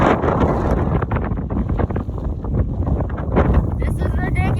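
Strong wind buffets the microphone on a snowy road trip, a loud, constant roar and rumble with gusty fluctuations throughout.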